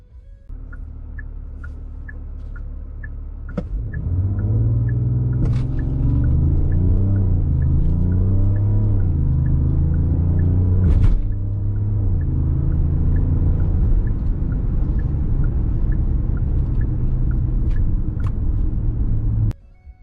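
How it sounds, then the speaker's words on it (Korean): A Genesis GV80 3.0 diesel AWD with an 8-speed automatic accelerates hard from standstill to 100 km/h, its engine rumble rising in pitch through several gear shifts, loud and close, over a steady cabin chime ticking throughout. "출력에 따른 제로백 영상을 잠깐 시청하고 오시겠습니다"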